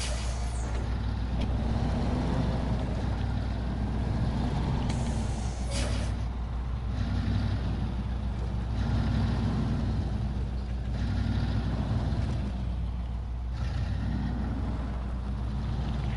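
A heavy truck engine labours slowly in the PS4 game SnowRunner, a deep continuous rumble with faint hissing bursts, fairly quiet and steady over the whole stretch, no voices.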